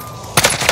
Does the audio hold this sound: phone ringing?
no